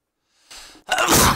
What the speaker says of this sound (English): Sorry, I didn't mean to sneeze on you guys.